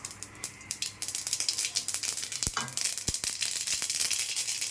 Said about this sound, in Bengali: এখন তেলের মধ্যে সরিষা ফোড়ন দিয়ে দিলাম।